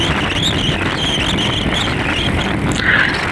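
An Apache RTR 160 4V motorcycle rides along a hilly road between Sylhet and Jaflong, a loud continuous engine roar with heavy wind rush and no pauses.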